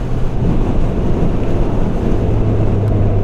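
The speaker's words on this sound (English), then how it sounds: "Good God, it's windy." Strong wind buffets the microphone, a dense low rumbling roar that stays loud and steady throughout.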